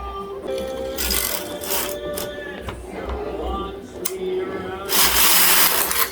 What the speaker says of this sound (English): I'm getting my machine out of hold, and then I'm going to knit 1 row across.